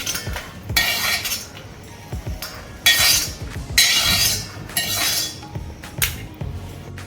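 Dry-fruit slices fried in ghee are scooped from the pan onto a plate with bright metallic clinks and scrapes in short bursts, close by, with no talking.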